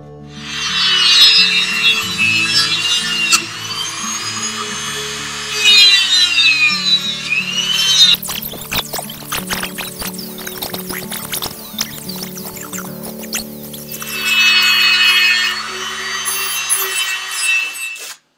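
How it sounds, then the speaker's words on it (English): A Dremel rotary tool grinds and shapes a wooden perch popper fishing lure in loud, close bursts of high whirring and rasping. The bursts alternate with scratchy, rubbing passes over the wood. "I think maybe a Dremel with the right bit would be good for that."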